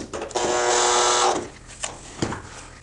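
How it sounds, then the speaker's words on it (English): A power drill drives screws into wooden blocks for a faux beam dry-fit assembly: one steady, loud, whining burst of about a second, then a couple of faint knocks. "it doesn't take long to put 16 screws in the blocks to attach these two faces to each other"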